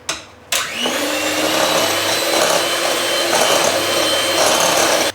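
An electric mixer whirs steadily through wet cake batter of yogurt, whole milk and lemon zest for a coconut walnut cake, starting after a brief click and running loud and continuous to the end.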